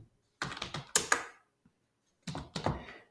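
Brisk typing on a computer keyboard while writing Python code, two bursts of close, crisp keystrokes separated by a short pause.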